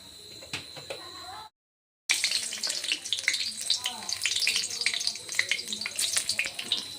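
Bay leaves and dried chillies tempered in hot oil for a broiler chicken leg curry, giving a steady close sizzle and crackle with a brief silent gap, then continuing busily with light bursts of spattering.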